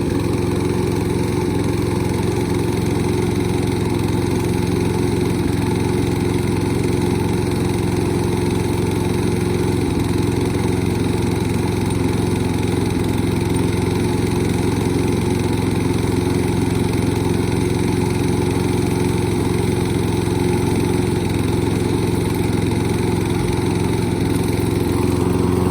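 A Toro lawn mower engine runs continuously at a steady, loud drone close by, with no change in speed and no voices over it.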